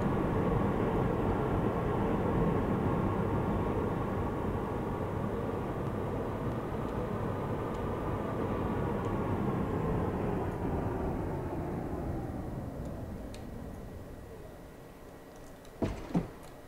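A BR 423 electric commuter train in the Train Simulator game rumbles steadily and loudly, its broad drone slowly fading as it brakes to a stop, with a couple of short clunks near the end.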